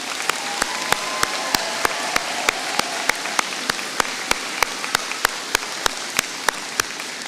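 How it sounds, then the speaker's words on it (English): Graduation ceremony crowd applauding after scholarship awards: dense, steady clapping from many hands throughout, with sharp individual claps standing out over the wash, moderately near and sustained without speech. "Can we have a round of applause, please?"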